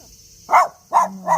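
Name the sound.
dog barking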